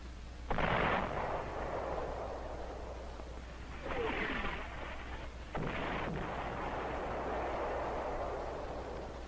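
Rocket and artillery fire from the 4th Marine Division in the WWII battle for Saipan: several heavy booming bursts stand out over a steady rumbling background, loud and fairly close, with no voices.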